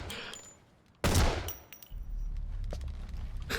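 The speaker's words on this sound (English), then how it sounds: "I'm shooting it with a rocket." A rocket launcher fires in the video game Metal Gear, a single sharp blast followed by a low rumbling tail and metallic rattling, with no one talking.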